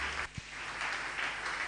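A church congregation applauding during a Sunday service, a dense, steady clatter of many hands clapping together, moderately loud and continuous apart from a brief dip near the start.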